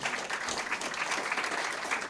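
At a public school board meeting, the audience claps for a high school honoree, a steady, fairly soft roll of many hands that holds evenly from start to finish without speech.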